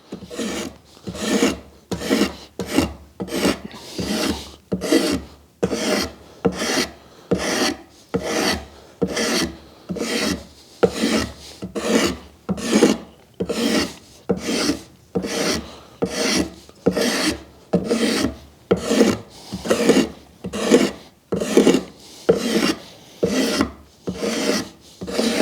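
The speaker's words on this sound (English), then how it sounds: "I'll take my draw knife, I'll use it like a scraper, and get rid of any ridges on there" Draw knife used as a scraper on a wooden hewing axe handle: long, repeated rasping strokes in a steady back-and-forth rhythm, close and clear, with no voices.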